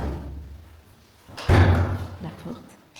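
An apartment door swings shut with a firm thud partway through, following quieter room sounds, with a person talking nearby.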